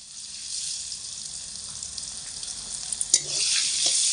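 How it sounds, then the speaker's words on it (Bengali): Potato pieces fry in hot oil, a bright sizzling hiss that stays steady, with a few small clinks and stirring sounds toward the end and no speech. "আলু ভাজার সময় আলুর মধ্যে স্বাদ মতো নুন দিয়ে দেব।"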